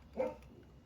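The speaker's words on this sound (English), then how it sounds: "That's my neighbor's dog, Fiona." A single short dog bark, faint and somewhat distant, over a quiet background.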